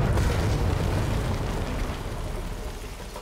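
In Shadow of the Tomb Raider, a cannon fires at a barrier: a loud, heavy boom opens the clip and breaks into a rumbling, crumbling wash of debris that slowly fades.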